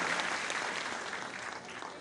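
Audience at a government event clapping together, a dense, fairly loud burst of applause that holds steady for about two seconds and tapers slightly at the end.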